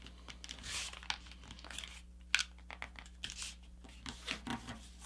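Paper being folded and creased into a paper airplane, with close crinkling and crunching rustles in short bursts and a sharper crease press midway, no talk.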